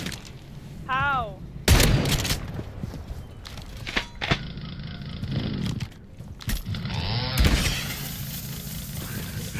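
Shotguns in a one-on-one video game match: two heavy, loud blasts several seconds apart, set among game noises and a voice.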